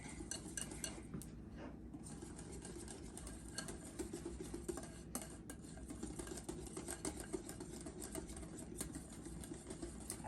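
Whisk or utensil scraping steadily in a bowl as Dutch baby pancake batter is mixed to get the lumps out, a continuous busy clatter and swish for ten seconds with no talking.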